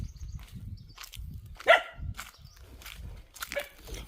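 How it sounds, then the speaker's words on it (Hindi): A dog in the jungle gives a single sharp bark at a wild boar amid quiet rustling and soft footstep-like thumps. "ये खड़े होकर भौंक रही है, इसका मतलब इसको मालूम है कि ये जंगली सुअर है"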